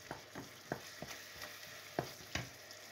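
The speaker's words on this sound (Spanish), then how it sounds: "Vamos a estar sofriendo esto como unos 4 minutos" Tomato and paprika frying in a pan for a hake in sauce, with a soft steady sizzle broken by about eight sharp stirring scrapes and taps of a utensil against the pan, close and fairly quiet, with no talk.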